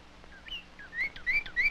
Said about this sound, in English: He found birds.